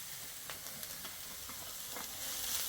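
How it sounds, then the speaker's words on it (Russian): Carrots and onion frying together in a pan for lazy cabbage rolls, a soft steady sizzle with a few faint clicks of stirring, fairly quiet and with no one talking. "С морковью тушим примерно минуты 2-3."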